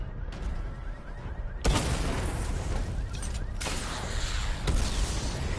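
Batmobile missile barrage firing in Batman: Arkham Knight, a series of loud sharp launches and booms arriving in rapid bursts over a rumbling background, with no talking.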